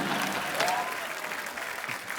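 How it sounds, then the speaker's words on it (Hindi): Studio audience at a comedy show applauding, a steady dense wash of clapping from a crowd that keeps going without letting up. "सरला के लिए जोरदार तालियां"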